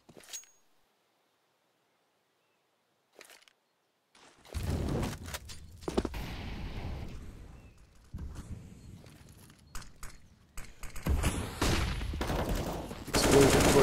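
Rifle fire and footsteps in Counter-Strike on the Inferno map during a professional match, with a few faint clicks after near-silence, then dense bursts of gunfire and rapid shots mixed with movement noise, loud and close.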